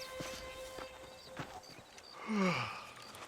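Horse hooves in the Red Dead Redemption video game, a few scattered clops over a quiet outdoor background with a faint whinny-like tone near the end.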